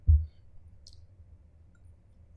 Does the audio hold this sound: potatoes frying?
no